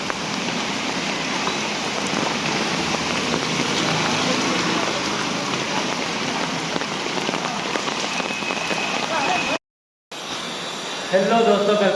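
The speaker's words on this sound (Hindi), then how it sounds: "तो मुंबई में इतनी तेज़ बारिश हो रही है।" Heavy rain pouring down in Mumbai, a dense, steady roar of drops hitting surfaces that runs unbroken, then cuts out briefly before a faint voice and quieter ambience follow.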